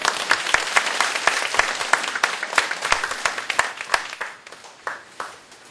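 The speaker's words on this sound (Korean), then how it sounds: "오늘 이토록 귀한 행사를 할 수 있도록 허락해 주신 우리 하나님께 먼저 영광의 박수를 올려드립니다" Enthusiastic applause from a large congregation at a church prayer gathering, a dense burst of many clapping hands that swells and then gradually thins out toward the end.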